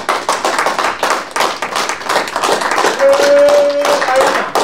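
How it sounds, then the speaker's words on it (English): Hands clap at an annual general meeting in Baltimore to honour the year's best arena member, a loose scatter of claps building to a fuller round, with a brief tonal sound near the end. "Can we clap for that?"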